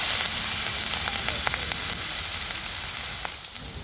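Whole cumin seeds, asafoetida and chili paste sizzling in hot oil for an onion-potato curry, a steady close crackling hiss with scattered pops throughout.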